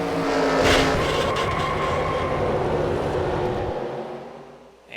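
A race car slams into a concrete wall at about 100 mph in the NASCAR Racing 2003 sim at Myrtle Beach: a loud impact near the start, then a sustained roaring scrape that fades out toward the end.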